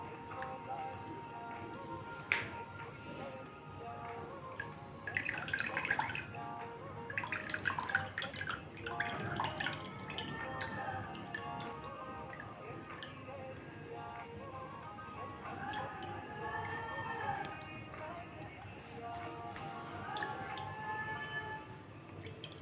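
Dissolved tamarind extract is poured into a vessel and stirred for a tamarind drink, with soft liquid splashing and dripping sounds throughout, fairly faint beneath a speaking voice.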